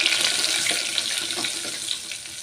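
Garlic and a pinch of asafoetida sizzle and fry in a pan for a mango dal, a steady, fairly loud broadband hiss with small crackles running throughout.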